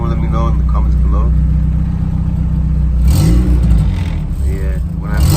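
A turbocharged Honda Civic engine runs loud and close, its steady drone swelling as the throttle is held open, with someone talking over it.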